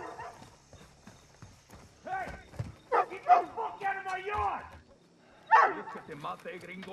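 Dogs bark in a yard in Call of Duty Modern Warfare II, several sharp barks bursting out between stretches of talk, with a loud cluster near the end.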